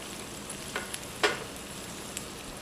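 Onions and an olive mixture frying in a pan, a soft continuous sizzle with a few light utensil taps and one brief louder scrape, fairly quiet and close with no talking.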